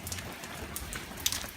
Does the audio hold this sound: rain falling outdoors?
yes